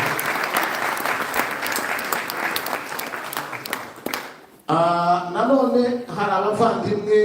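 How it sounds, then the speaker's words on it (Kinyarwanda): Audience at a commemoration event claps together in steady sustained applause for several seconds, fading briefly before a speaker's amplified voice takes over. "babakomera amashyi menshi cyane"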